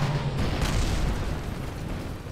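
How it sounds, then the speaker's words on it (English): Rocket launch in Kerbal Space Program, a dense, loud roaring rumble with a sharp burst near the start that sustains steadily throughout without any talk. "Launch in 3, 2, 1. The rocket will launch"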